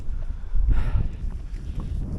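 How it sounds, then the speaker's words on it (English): Wind gusting across open moorland on a hike, a loud low buffeting roar against the microphone that swells to a peak and then eases off, steady and close, with no talking. "Oh, that wind's picked up as well, which is nice."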